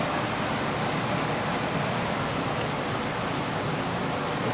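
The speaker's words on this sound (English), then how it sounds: "It's raining." Steady rain falls at the Legend Villas Hotel in the Philippines, a dense, even hiss that holds unchanged from start to finish with no voices over it.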